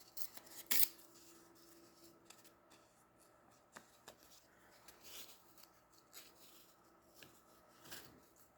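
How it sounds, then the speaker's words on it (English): Paper trimmed with scissors for junk journal page toppers, with one louder snip near the start followed by faint, sparse cuts and soft paper rustles, close and quiet, no voices. "And I might have to trim this down just a bit."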